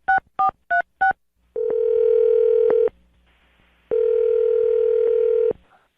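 Telephone call being placed: four quick keypad tones, then two long steady ringback tones separated by a pause.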